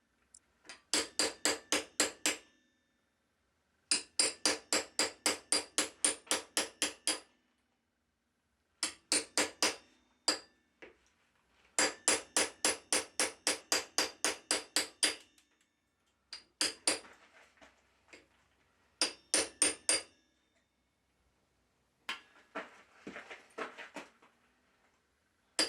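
Hammer blows on a steel cold chisel during decorative blacksmithing, ringing metallic strikes in fast, even bursts of about ten to twelve, separated by pauses and later fading to sparse, lighter taps, close and clear.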